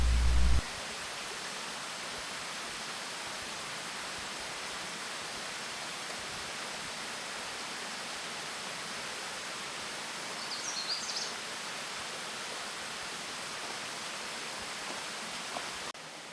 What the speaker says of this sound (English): It takes you past a quiet beaver pond and a pretty little waterfall.